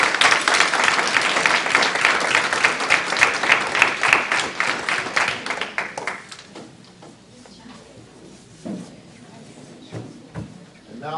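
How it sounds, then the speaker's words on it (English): Dense, loud applause from an audience at a school district board of trustees meeting lasts about six seconds, then thins out and fades into quiet room noise with a few faint knocks. "Let's do another round of applause."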